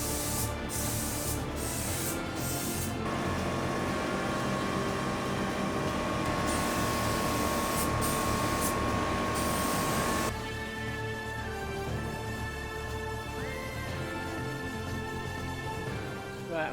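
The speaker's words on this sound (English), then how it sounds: "I'm going to spray this up." A spray gun paints a panel of a habitation box built for an overland expedition truck. It gives a continuous loud hiss for about seventeen seconds with short breaks early on, and the tone changes partway through.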